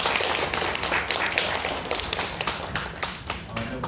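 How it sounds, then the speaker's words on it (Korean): A church congregation at a Sunday worship service claps loudly, with sharp, irregular individual claps close by that form a lively ragged burst and then gradually thin out. "한번 크게 한번 박수로 하나님께 영광을 드리겠습니다."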